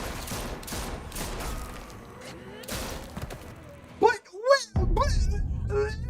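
Gunshots from the Telltale video game The Walking Dead: The Final Season, a cluster of sharp broadband cracks through the first three seconds under a person talking, followed by louder speech.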